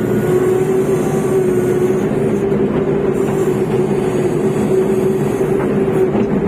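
A Terex TLB 740 backhoe loader engine runs loud and close, a steady sustained roar with a constant pitched drone as it is revved, no voices over it.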